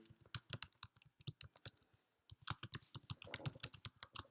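Rapid bursts of keystrokes on a computer keyboard while someone writes lines of SwiftUI code, clattering in irregular runs with a short pause midway before the typing resumes.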